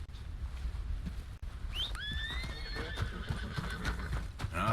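Video-game horse hooves clip-clop at a steady pace, and a horse whinnies about halfway through, fairly close.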